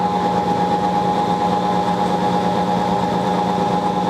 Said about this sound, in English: Let's turn the lathe, let's turn the lathe on and see what happens